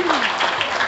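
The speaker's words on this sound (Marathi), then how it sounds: "जोरदार टाळ्या झाला पाहिजे" Loud applause from an event audience cheering a third-place finish at a Lokmat Shravan celebration in Dadar, Mumbai, a short burst of dense clapping with a faint tone fading at the start.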